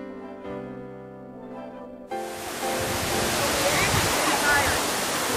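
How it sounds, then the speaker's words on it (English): An indoor waterfall at the Cloud Forest in Singapore roars in as a loud, steady broadband rush of falling water, following a stretch of musical tones. "We're at the Cloud Forest and we're about to see an indoor waterfall."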